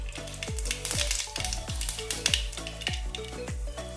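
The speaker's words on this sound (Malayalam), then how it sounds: "കുറച്ച് കടുകിട്ട്" Mustard seeds spatter and pop in hot coconut oil in a pan, with a steady close sizzle broken by repeated sharp crackles that come about every half second.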